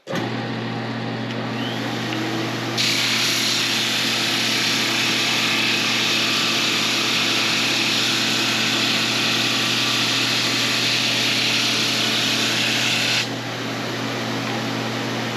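A steady, loud machine whine of a drum sander grinding resawn pallet wood, starting after a few seconds over a low motor hum and cutting off near the end.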